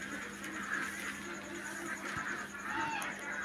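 Domestic ducks on a Bangladeshi duck farm quack in a loose, steady chorus around feeding time, the calls close and continuous over a constant background hum.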